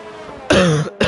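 Two close, loud coughs from a man, the first a sustained harsh burst and the second short after a brief pause, heard over faint background during motorsport commentary.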